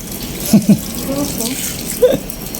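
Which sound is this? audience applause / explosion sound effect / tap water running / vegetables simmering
tap water running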